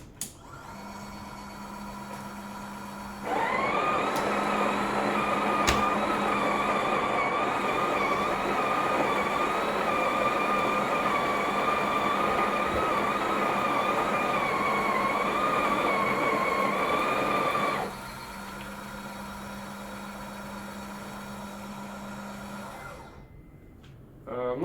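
A Breville Oracle BES990 espresso machine grinds coffee at grind size 20 with a loud, steady whirring drone for about fifteen seconds, starting and stopping abruptly, with a quieter machine hum before and after.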